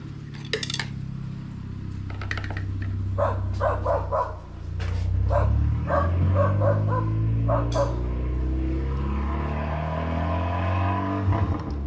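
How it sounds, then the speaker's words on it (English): A Volkswagen car engine rumbling steadily nearby, with sharp clattering and knocking bursts over the low drone. "It's a neighbor in their Volkswagen. If you're curious what that obnoxious noise was"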